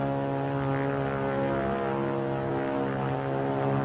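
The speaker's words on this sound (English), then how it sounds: "It's a plane, all right." A WWII-era propeller plane drones steadily overhead, a sustained, fairly loud engine hum with strong even harmonics and no voices.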